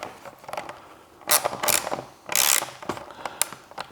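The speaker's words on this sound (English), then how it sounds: "So with our 10mm socket," Ratchet with a 10mm socket tightening a fender extension bolt on a Honda Goldwing GL1800 front fender: quick bursts of close, clicking pawl ratcheting in short strokes, with no talk.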